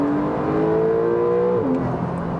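Twin-turbocharged 3-litre engine of a 2017 Porsche 911 Carrera 4S accelerating, a loud, close, rising engine tone that climbs steadily then drops abruptly with a gear change before pulling on.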